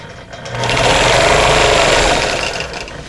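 Sewing machine running steadily while stitching a quilt block, a continuous close whirring motor hum that builds up and holds for about two seconds before easing off.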